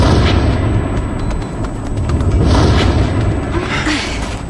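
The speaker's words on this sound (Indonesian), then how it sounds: "menaranya akan meledak" A tower at a nuclear plant explodes in a cartoon, rumbling on with heavy, continuous booming and crackling debris, dense low-end roar throughout.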